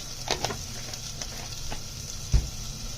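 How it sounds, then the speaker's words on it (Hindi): Soya chunks and potato sizzling and crackling in a hot pan, a steady fry with a few clinks and stirring knocks, nearby. "अब इसको हम भूनेंगे।"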